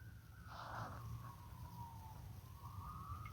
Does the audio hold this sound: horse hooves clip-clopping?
no